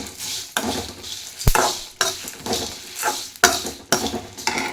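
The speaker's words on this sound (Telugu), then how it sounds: "కరివేపాకు బాగా వేగాలండి తేమ ముందుకు అస్సలు ఉండకూడదు" Curry leaves fry in a hot pan while a metal spoon stirs them in sharp, regular scraping strokes, roughly one every second, over a light sizzle; nobody speaks.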